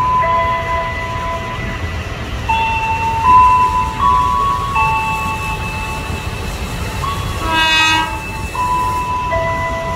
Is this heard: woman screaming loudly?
no